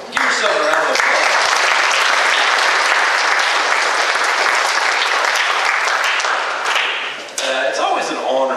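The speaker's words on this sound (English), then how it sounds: "so let's give yourself a round of applause." Loud, dense applause from a crowd at an academic banquet, sustained for several seconds close by before thinning near the end as a voice begins to speak.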